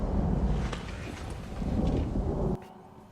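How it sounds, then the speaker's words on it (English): Rolling thunder from an approaching storm in the Game of Thrones episode "The Rains of Castamere", a low continuous rumble with wind that cuts off abruptly near the end. "There's a storm coming."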